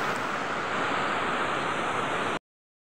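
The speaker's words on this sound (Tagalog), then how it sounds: "Ang lakas ng baha." Strong floodwater after a night of heavy rain rushes past in a loud, steady roar, a dense, unbroken wash of noise with no voices, cutting off abruptly near the end.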